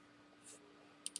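Two quick, faint clicks of a computer mouse in a quiet room while drafting a part in CNC design software, closely spaced near the end of a soft background hum.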